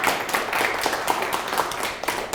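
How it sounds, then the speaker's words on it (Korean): Audience clapping at a Korean lecture on the Fourth Industrial Revolution and human management, a dense, continuous patter of many hands filling the room at steady loudness. "박수 한번 치겠습니다."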